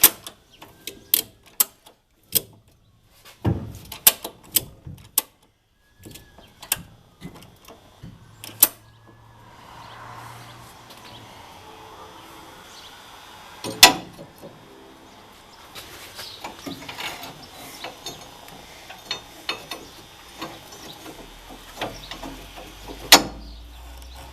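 A leaf spring bolt being cranked up on a 1989 Ford F150 during an add-a-leaf install, with sparse sharp metallic ratchet clicks and knocks, some rapid bursts, against a quiet background.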